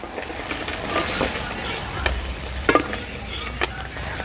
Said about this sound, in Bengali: মাছগুলো ভেজে নিয়েছি, দেখো এক এক করে নামিয়ে দিচ্ছি